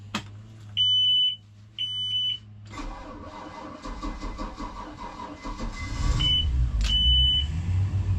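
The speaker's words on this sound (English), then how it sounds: "I'm gonna try to fire up one of the engines" A pair of electronic warning beeps sound before a boat engine cranks and catches, settling into a rough, rumbling idle close by as more beeps chirp over it near the end.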